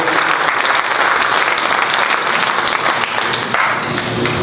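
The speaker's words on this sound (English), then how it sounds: "let's give her another round of applause. KJ LaVortis." Loud, sustained applause from a large audience at a Black history program, steady clapping filling the whole stretch without letup.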